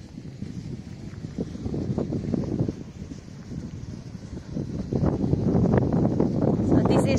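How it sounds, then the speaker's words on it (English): Wind gusts buffet the microphone at a hilltop wind farm lookout near Ravenshoe, where trees lean from constant wind. Low rumbling blasts rise and fall and grow stronger toward the end, with no talking. "it's always windy here."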